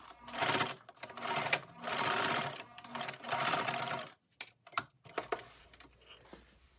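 A sewing machine stitches a pleat in a butterfly-pleat curtain, running in several short whirring bursts separated by pauses, then slowing into quick single stitches near the end.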